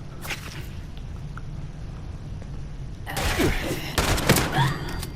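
Gunfire in the video game Fallout 76: sharp whip-like cracks and bursts of rounds, sparse early and then a heavy, dense volley in the second half, close and loud over a low ambient rumble.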